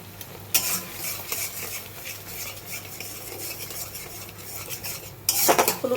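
A utensil stirs food frying in a pan after turmeric is added, scraping and clinking against the metal under a soft sizzle, close and steady, with sharper clatter at the start and end.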